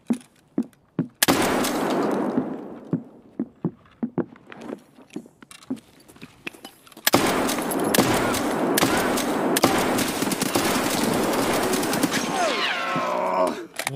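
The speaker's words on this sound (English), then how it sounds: "I shot that guy like 8 times." Gunfire in the video game Escape from Tarkov, with a few sharp isolated shots followed by dense bursts of rapid fire, loud and close, while a voice talks over the action.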